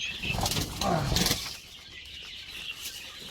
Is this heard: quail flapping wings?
yes